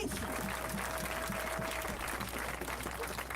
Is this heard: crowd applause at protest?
yes